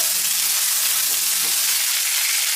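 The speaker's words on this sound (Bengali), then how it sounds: "এর মধ্যে দিয়ে দিচ্ছি আমি কারি পাতাটা কারি পাতাটা অল্প একটু ফ্রাই করে নিচ্ছি" Curry leaves and mustard seeds frying in hot oil for dhokla tempering, a continuous even sizzle with faint crackles, close and steady throughout.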